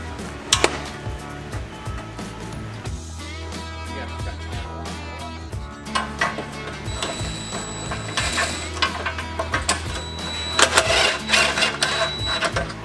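A hand ratchet cinches the bolts on rock sliders fitted to a two-seat Polaris RZR 1000, its rapid clicking pawl ticking steadily through the clip beneath background music.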